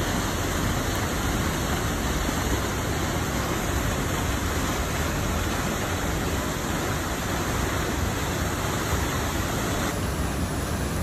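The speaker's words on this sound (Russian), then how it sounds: "Вот он, маленький водопадик" Steady, broadband rush of falling water from a small waterfall in Mount Rainier National Park, Washington, constant and fairly loud with no voices.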